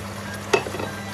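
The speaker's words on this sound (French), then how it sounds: "Donc là, je mets les oignons." A brief soft thump and hiss as onions drop into a hot pan of sautéed veal, over a steady low sizzle, close and short.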